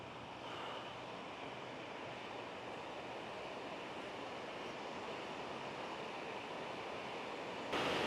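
A waterfall in British Columbia, viewed near a suspension bridge, roars as a steady, dense rush of falling water that stays loud and unbroken throughout, with no voices.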